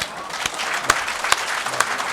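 Audience applause at a literature festival poetry reading session in Karachi, a steady patter of many hands clapping with a few sharper claps standing out, fairly close and continuous.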